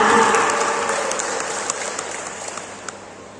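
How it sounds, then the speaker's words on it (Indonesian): Audience applause at a Buddhist Dhamma talk held at a vihara, a dense burst of clapping that starts loud and gradually fades over a few seconds, heard alone without talk. "Satu tepuk tangan untuk Vihara Sukasini Indrapura."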